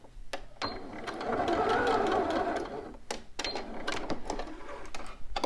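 A sewing machine runs in a steady whirring burst while back stitching a bodice, pausing and restarting with short bursts and clicks between runs, close and alone.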